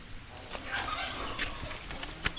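Poultry on a small farm with turkeys and ducks, faint clucking and bird calls under scattered soft clicks and thumps, with quiet outdoor ambience throughout.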